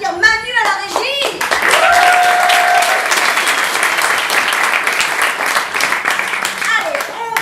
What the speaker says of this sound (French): On peut applaudir Manu à la régie.